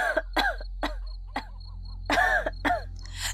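A rough coughing fit in a horror tale: a string of harsh, hacking coughs and throat clearing in uneven bursts, close and clear over a faint cricket-like night hum.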